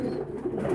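Pigeons coo while being fed grain and wheat, giving a low, soft, continuous burbling that holds steady throughout, close by and with no voices.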